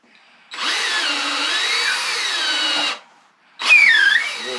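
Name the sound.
power drill turning a reamer through a cork rod grip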